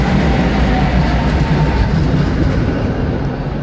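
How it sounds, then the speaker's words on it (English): Old trams rumbling through a street in Prague, a loud, steady rolling roar with faint rail clatter that eases slightly toward the end. "Look at these old trams."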